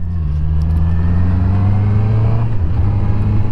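A Honda CB650R motorcycle on a road ride, its engine droning steadily and loudly up close, with a smooth rising pitch as it is opened up.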